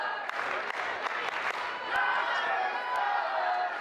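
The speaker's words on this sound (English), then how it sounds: "Summer crowd not a big fan of Cowboy Fodder, screaming, "Fodder sucks."" A wrestling crowd at a DCW event roars and jeers in a sustained wall of noise, with scattered claps and shouts running throughout.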